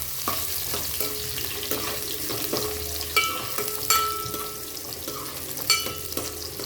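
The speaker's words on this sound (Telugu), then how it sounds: "ఎర్రగడ్డలు వేసి బాగా కలపాలి" Sliced onions are stirred as they fry in oil in a pan for a fish curry, a steady close sizzle with a spoon scraping and clinking against the pan now and then.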